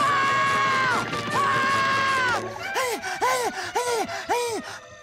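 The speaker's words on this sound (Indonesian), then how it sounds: "semua jeritan itu pasti mengusir si monster" Cartoon characters in a SpongeBob episode scream loudly in long wailing cries, then break into a string of short rising-and-falling yelps, close and shrill with no talk.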